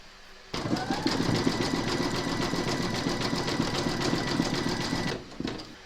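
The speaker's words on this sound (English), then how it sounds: "Pop your hoop into your machine and stitch round number 7, and that's going to zigzag along here" An embroidery machine stitches a zigzag seam joining segments of an in-the-hoop notebook cover, a fast, even mechanical whirr that starts abruptly, runs steadily for several seconds, then stops, with no speech.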